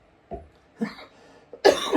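A few short coughs, the last one louder and rougher, close up with brief gaps between them.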